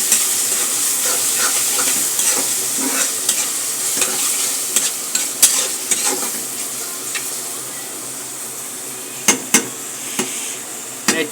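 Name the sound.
stirring tomatoes with fried onions and chilies in a pan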